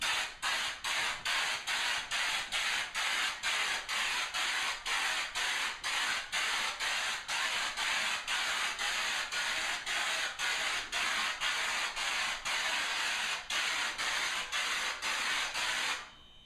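Aerosol drywall texture spraying in a bathroom: a close, loud hissing spray in rapid, even pulses, about two per second, continuing steadily before stopping.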